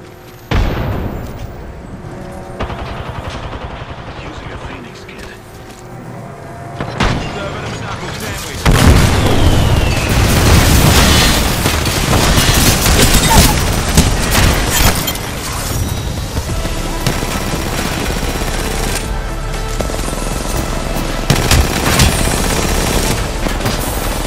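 Sustained gunfire and explosions in Apex Legends, dense rattling bursts and booms layered continuously, growing louder and busier midway, with a voice briefly speaking underneath the chaotic battle noise.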